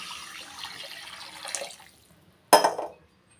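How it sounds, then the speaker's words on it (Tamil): Water poured from a tumbler into a pot of vegetable soup being cooked, a steady splashing pour for about two seconds, then a brief sharper splash after a short pause. "இப்போ ஒரு ரெண்டு டம்ளர் அளவு வந்து தண்ணி சேர்த்துக்கிறேன்"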